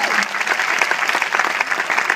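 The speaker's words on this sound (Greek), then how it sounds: "Χειροκρότημα για άλλη μια φορά σε αυτή την υπέροχη ορχήστρα." A concert audience applauds a Greek folk orchestra at a tribute performance, dense, loud clapping filling the short stretch evenly from start to finish.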